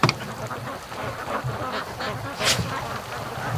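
Ducks on a lake call out in quick, rough quacks and honks, a handful of scattered bursts at moderate distance over steady outdoor background noise.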